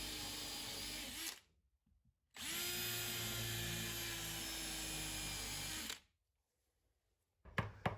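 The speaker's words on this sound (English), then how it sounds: "I'm just hand drilling roughly into the right depth with a drill" A power drill whines steadily for about a second, pauses, then runs again for several seconds before stopping, drilling into a wooden carving; a brief clatter follows.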